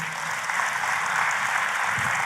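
Applause from a church congregation during a sermon, a dense, even wash of clapping hands filling the room at moderate loudness without a break.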